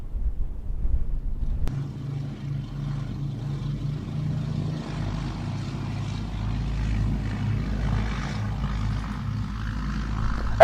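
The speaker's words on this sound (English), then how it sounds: "Clear for takeoff, Blenheim." A Bristol Blenheim's engines drone steadily as it takes off, a low, rumbling engine noise that holds and swells slightly, heard alone.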